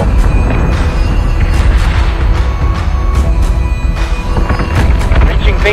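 Ship weapons fire in the Battlestar Galactica Deadlock space battle game, loud booming bursts and thuds layered over a dense, constant rumble, with sharp impacts recurring throughout.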